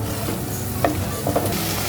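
Boiled corn sautéing in a pan for Tamil-style veg macaroni pasta: a soft, steady sizzle with a couple of brief stirring scrapes, close by and alone.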